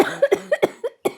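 A person coughs repeatedly in close range, about six sharp, dry bursts in quick, uneven succession with short gaps between them.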